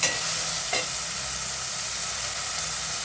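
Chopped tomatoes sizzle in hot oil in a pan for a dry egg masala, a steady, close hiss of frying that holds evenly throughout, with a brief stir partway through.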